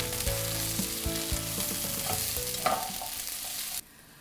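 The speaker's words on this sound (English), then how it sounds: "last thing I'm going to do is I'll toss in the bok choy and the sweet peas" Bok choy and sweet peas tossed into a hot pan, sizzling loudly alongside scraping stir clatter and low tonal hum, then cutting abruptly to near silence.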